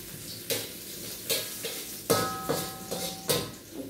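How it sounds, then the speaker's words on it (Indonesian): Garlic and shallots frying in hot oil in a wok for nasi goreng, a steady sizzle broken by repeated scraping stirs and clanks of a utensil against the pan, close and moderately loud with no talking. "Saya masukkan dulu bawang, kedua-dua bawang putih dan merah."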